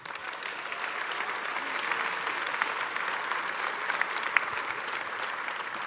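Conference audience at DrupalCon Atlanta 2025 applauding, a large hall of steady, sustained clapping with a few sharper claps standing out, moderately distant.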